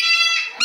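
Several parrots at a parrot sanctuary give shrill, harmonic calls and squawks, close and fairly loud, with a sharper burst near the end of the short stretch.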